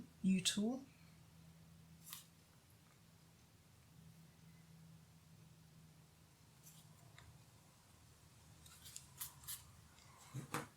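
A U-shaped gouge carves a linocut block, with faint scraping cuts, a louder scrape at the start and a cluster of small scratchy strokes near the end, while a person speaks quietly throughout.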